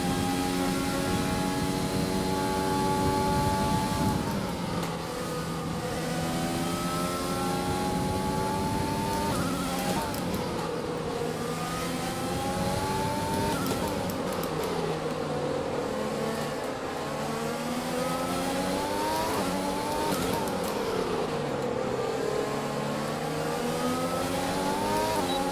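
An F1 race car engine in the F1 2020 video game at the Dutch Grand Prix screams loudly and continuously, its pitch climbing and dropping through repeated gear shifts and revs with no break.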